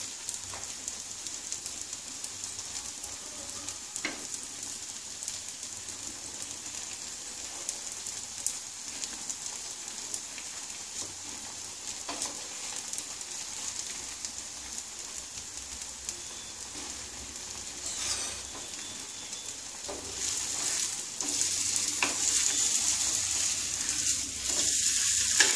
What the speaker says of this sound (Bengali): একটু লাল লাল করে আমি ভেজে তুলব